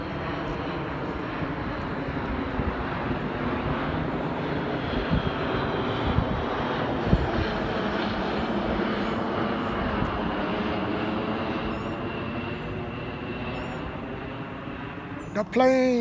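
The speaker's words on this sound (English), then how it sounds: "there's the airplane." A steady airplane engine drone passes overhead, continuous and fairly loud throughout, ending with a brief sharp noise nearby.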